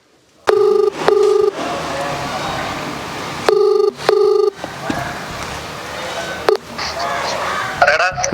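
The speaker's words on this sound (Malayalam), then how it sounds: "അപ്പോൾ നമുക്ക് ഒന്നുകൂടെ ഒന്ന് വിളിച്ചു നോക്കാം" Phone call placed from inside a house: repeated electronic ringback tones in pairs of bursts, loud and close, with a voice talking between the rings.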